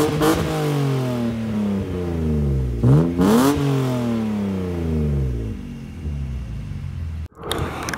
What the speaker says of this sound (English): the exhaust does sound amazing. I'll go ahead and insert a clip for you guys right now.